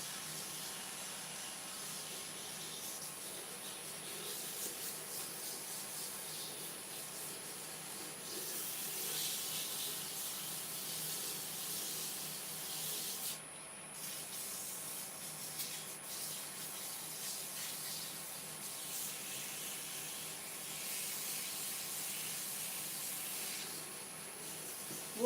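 Steady, soft rubbing hiss of 240 grit sandpaper worked over wood, continuing evenly with slight swells, fairly quiet and without talk.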